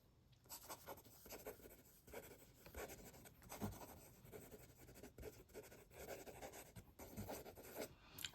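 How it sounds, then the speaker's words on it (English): Quick handwriting with a Jinhao 59 fountain pen on paper: a continuous faint scratchy rasp of nib strokes in irregular bursts, close up with no talking. "Quick writing."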